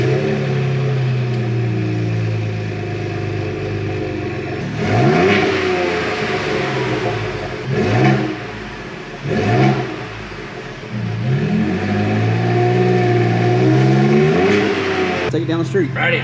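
Ford Bronco built for SEMA, its engine idling with a rough rumble and then revved hard several times in loud rising and falling bursts, close by, with people talking around it.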